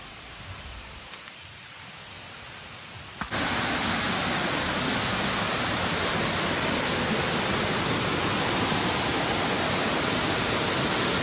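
Na Muang waterfall on Koh Samui, Thailand: after about three seconds of quieter ambience, a loud, steady broadband roar of rushing water fills the rest of the clip, continuous and close with no pauses.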